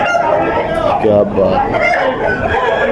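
Aseel fighting roosters and Egyptian desi birds crow at a gathering of many fowl, a crow rising briefly over constant nearby talk and chatter.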